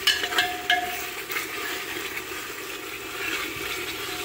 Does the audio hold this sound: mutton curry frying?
yes